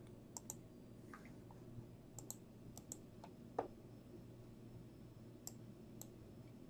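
Quiet, sharp computer mouse clicks sound at irregular intervals, a few isolated close ticks over a faint steady room hum while a randomizer is run for a sports card break.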